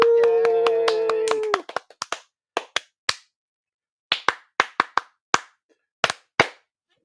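A small group at a tabletop Dungeons & Dragons game breaks into applause after a brief cheer, then claps trail off into scattered single claps spaced a second or so apart, close and crisp.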